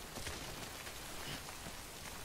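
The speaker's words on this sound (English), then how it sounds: "Go, go, go! Get out of the rain!" Steady rain pattering on surfaces in the video game Death Stranding, a dense, even hiss of drops with no talk, continuous and fairly close throughout.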